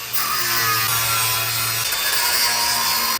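A saw cuts the heads off old bolts during a distributor change on a Holden 5-litre V8, a loud, steady rasping grind of short strokes that stops abruptly after about three seconds.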